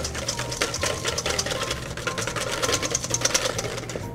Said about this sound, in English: We'll whisk this up.